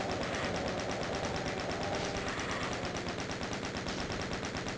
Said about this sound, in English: As soon as they hear me shooting